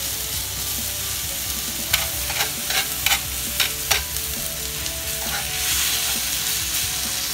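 Onions, carrots and other vegetables sizzle steadily in a frying pan alongside steak, while several close scraping stir strokes cut through the frying noise in the middle.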